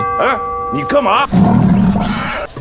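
Animated Golden Lion King lets out a loud, rising and falling roar that swells into a dense, rumbling blast of sound, close and dominant, with a brief gap near the end.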